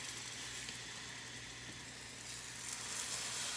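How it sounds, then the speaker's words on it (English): Pork sizzles steadily in a hot pan, a close, crackling hiss that holds without pause. "Ooh, get that nice sizzle."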